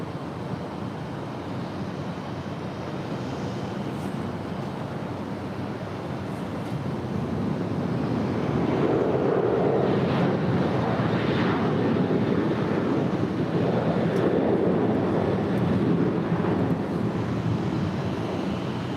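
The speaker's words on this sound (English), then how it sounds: "Volaris flight 919 headed to Guadalajara in an A320." A Volaris Airbus A320 airliner bound for Guadalajara roars steadily at LAX, a broad jet rumble building after the first few seconds and then holding loud, with wind buffeting the microphone throughout and no talk.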